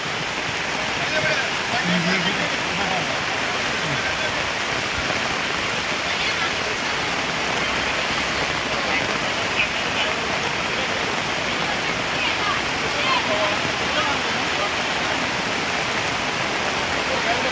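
A torrential downpour falls steadily over Rajapur's weekly market, a constant loud wash of rain drumming without letup, with distant voices faintly audible beneath it.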